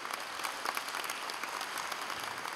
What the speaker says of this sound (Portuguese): Vamos aplaudir a esses amados irmãos que aqui estão todos